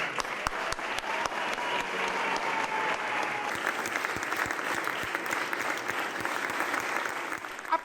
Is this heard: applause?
yes